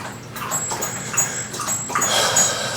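A dog drinks water during a podcast recording, close-up irregular lapping and slurping noises with small whimpery tones, fairly loud in a quiet indoor room, with no talking.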